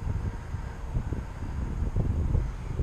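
Strong gusting wind buffets a microphone outdoors, a low rumbling roar that swells and pulses unevenly throughout, loud and steady with no other clear sounds.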